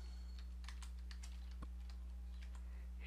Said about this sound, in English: I just type in the value.